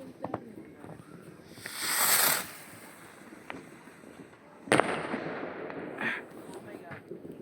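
Fireworks go off in Pravenec, with a rushing whoosh followed a few seconds later by one sharp bang and a trailing crackle, set against faint outdoor background noise and people nearby.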